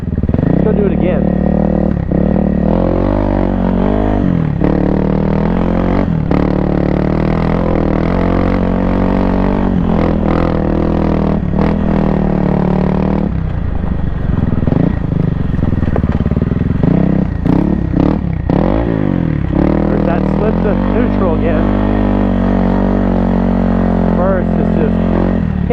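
A 2024 Kawasaki KLX300R dirt bike ridden off-road on cross-country trails and small jumps, its engine buzzing loud and close throughout, revving and shifting, with rattles and clatter from the terrain and a rider's voice at times over it.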